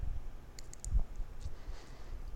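Several small, faint computer mouse clicks on an OK button in a quiet room, brief and sharp with no talk.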